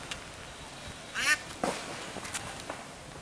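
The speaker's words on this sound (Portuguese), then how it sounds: "Está aqui um pato na ponte na via" Short, loud quacks from a duck standing on a bridge across the Liz River in a Leiria park come in two or three quick bursts against quiet outdoor background, with no talk.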